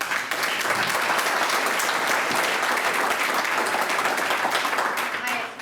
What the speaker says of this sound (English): I just want to ask one more time for a round of applause.